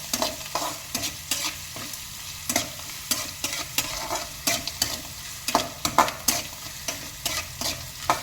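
Maggi noodles stirred with salt in a hot pan, with rhythmic scraping strokes of a spoon over a soft, steady sizzle, close by and free of speech.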